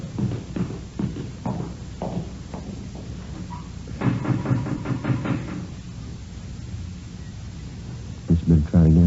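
Knocking on the front door of a house, a run of hard raps near the start and another quick burst at the end, with some voice-like murmur between, in an old police radio drama.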